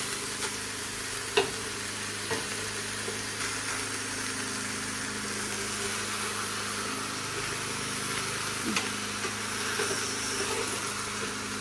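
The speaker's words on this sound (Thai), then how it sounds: "เราจะคนเขาไม่ให้ ติดก้นนะคะ ไม่ให้เขาไหม้นะคะ" Wax gourd and chicken wing curry is stirred in a small pot, giving a steady bubbling simmer and sizzle with a few soft clicks of the utensil, continuous and close throughout.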